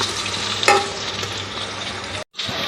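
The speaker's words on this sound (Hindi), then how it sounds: "ये देखिए मेरे प्याज थोड़े से हम इसे और ब्राउन करेंगे" Chopped onions sizzle and fry in hot oil for beef yakhni pulao while a utensil stirs them, giving a steady close crackle with one sharper scrape partway through and a short gap near the end.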